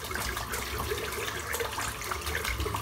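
A boar-bristle shaving brush, a 30mm Turn N Shave, is rinsed under a running tap, giving a steady, close splashing gush of water that continues evenly throughout with no talking.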